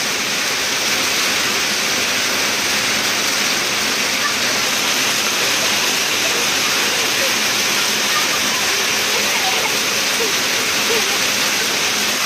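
Sudden heavy rain pours down over a cornfield being plowed, a loud, steady, dense hiss that stays constant throughout.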